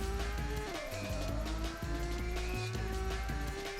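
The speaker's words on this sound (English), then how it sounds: "Got out of the drift pretty quick." A car drifting around a corner in the PS1 game Rage Racer, with a loud, continuous engine whine that dips and climbs again through gear changes and faint tire noise, and no talk.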